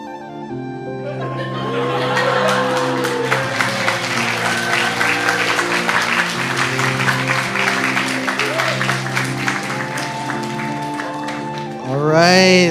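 An audience in a church service claps after a skit, a dense, sustained round of applause that swells in and carries steadily for several seconds, with some background music tones underneath.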